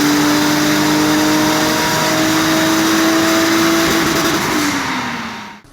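A Nissan SR20DET turbocharged engine revs steadily and loudly up close, its tone climbing and holding, then dropping away as the revs fall and cut off at the end.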